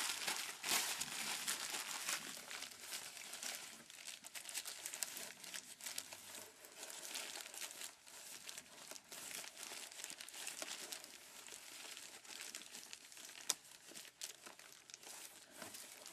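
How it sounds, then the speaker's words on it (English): Crumpled packing paper is pushed and stuffed into a parcel around nested bowls, making continuous close crinkling and rustling with small crunchy bursts throughout, and no speech. "I'm using more of this crumpled paper to make sure that the two cannot touch each other."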